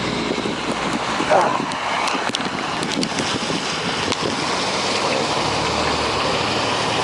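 Floodwater gushes over a small waterfall on a flooded Boston street, making a loud, continuous rushing roar mixed with wind buffeting the microphone.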